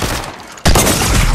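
A sudden, loud, dense burst of rapid gunfire erupts partway through a video game match and keeps going to the end.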